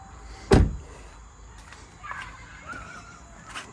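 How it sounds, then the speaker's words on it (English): A single solid thud as the door of a Ram 1500 pickup truck is shut, loud and close, followed by faint quiet background sounds. "I'm gonna shut this door"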